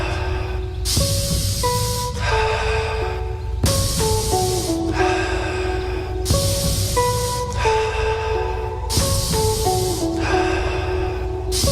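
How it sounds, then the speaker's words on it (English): Powerful rapid breathing in and out during a breathwork exercise, long loud forceful breaths in a steady repeating cycle with a music bed underneath, close and continuous. "Powerful breath in. Let it out. In, out."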